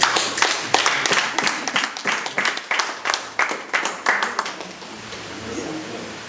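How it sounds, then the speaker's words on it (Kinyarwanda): Guests at a wedding anniversary celebration clap in a quick, rhythmic run of distinct handclaps that thin out toward the end, close and fairly loud. "ahubwo namwe nimwiha amashyi"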